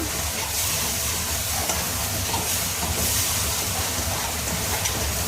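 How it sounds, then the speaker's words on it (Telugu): Kasuri methi is mixed into a hot oily masala for a hotel-style kadai mix veg curry, making a dense, even sizzle with a faint scraping of the stirring that runs unbroken and close, with no talking. "కసూరి మేథి, ఇప్పుడు ఇవన్నీ మిక్స్ చేసుకుందాం ఫ్రెండ్స్ బాగా."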